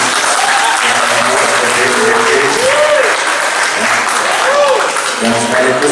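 An audience at a live talk about honorary and preschool teachers applauds loudly and continuously, the clapping running under a warbling, echoing public-address tone.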